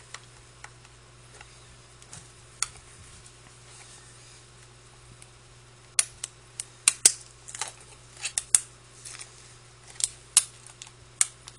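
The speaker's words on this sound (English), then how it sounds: "speaking of stickers, let's take this one off." Crackling, ticking peel of a sticker coming off a plastic Blu-ray case, with faint sparse clicks at first, then a cluster of sharp close snaps and crackles in the second half.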